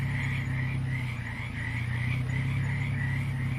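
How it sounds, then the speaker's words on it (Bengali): Crickets chirping at night around open fields beside an empty road, forming a steady, pulsing chorus over a low background hum. "চারিদিক থেকে ভেসে আসছে ঝিঝি পোকার ডাক।"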